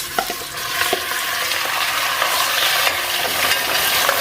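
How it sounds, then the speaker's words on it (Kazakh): Meat fries in hot oil in a pan, a loud, close, continuous sizzle with bursts of spattering and stirring scrapes, no voices. "Енді майдың қызғанын күтіп, етті қып-қызыл суы тартылғанша қуыратын боламын."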